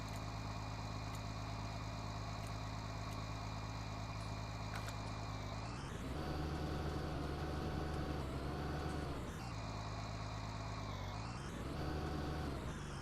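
Tractor engine in Farming Simulator 19 revved to maximum RPM with the pitch setting raised to 150%, a loud, steady, high whining drone that repeatedly sweeps up and back down, with no talking.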